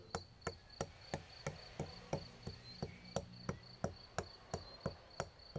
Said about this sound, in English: we grind in the mortar white pepper,